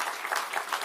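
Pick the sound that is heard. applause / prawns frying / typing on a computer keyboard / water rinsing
applause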